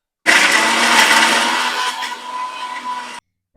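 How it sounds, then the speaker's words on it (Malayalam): A kitchen mixer grinder grinds spice paste with a little water for Kerala-style fish pickle. It starts abruptly with a loud, harsh whirr, runs steadily for about three seconds with a slight drop in pitch and strain, then cuts off sharply. "മിക്സിയൊക്കെ അടച്ച് നമുക്കൊന്ന് അരച്ചെടുക്കാം."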